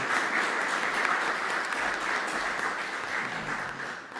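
Steady applause from an audience, a dense patter of many hands clapping continuously for a few seconds, no voices on top.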